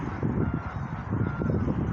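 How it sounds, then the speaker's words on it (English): Several waterfowl honking close by outdoors, a rapid run of overlapping nasal calls that continues throughout with no talking. "There goes my ducks"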